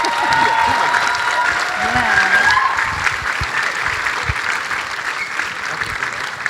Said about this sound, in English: let's give everybody a round of applause as they come back out again